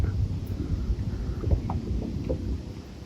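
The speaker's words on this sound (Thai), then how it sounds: "ลมก็แรงฮะไม่รู้จะหยุดหรือเปล่าฮะ" Strong wind gusts buffet a small boat on open water during snakehead fishing, a steady rough rush with low rumbling microphone buffeting throughout, no voices.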